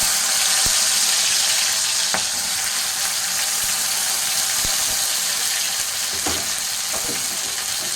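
Chopped pirandai (adamant creeper) frying in hot oil, giving a steady, close, loud sizzle with a few clicks and stirring taps along the way; no one speaks.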